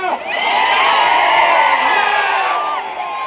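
A large crowd at a political rally in Pandharpur cheers and shouts loudly, with sustained, overlapping whoops and yells from many voices close by.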